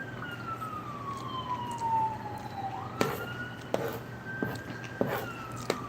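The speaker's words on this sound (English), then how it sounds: "A fire truck going by" A fire truck siren heard from indoors through an open sliding door in a city, a distant wailing tone sliding downward and then rising, with a few sharp knocks nearby.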